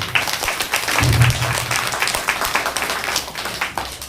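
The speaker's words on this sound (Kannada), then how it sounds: "ದಯವಿಟ್ಟು ಅವ್ರಿಗೆ ಒಂದು ಜೋರಾಗಿ ಚಪ್ಪಾಳೆ ಬರಲಿ" Applause for two teachers at a farewell function for a government school headmaster: a crowd claps in a steady, dense patter throughout, with a murmur of voices beneath.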